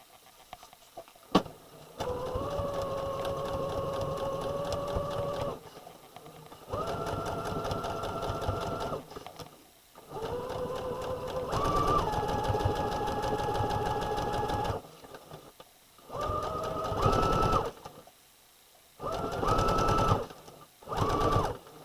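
Sewing machine stitching a garment from a Simplicity S9456 pattern, running in several steady whirring bursts of a few seconds each, separated by short pauses, close and fairly loud with no talking.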